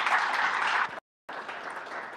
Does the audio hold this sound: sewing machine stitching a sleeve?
no